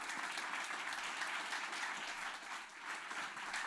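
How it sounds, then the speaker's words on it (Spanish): A church congregation gives a strong, steady round of applause at an evening sermon service, a dense even wash of clapping heard faintly from a distance. "démosle un fuerte, pero fuerte, fuerte aplauso al Espíritu Santo de Dios"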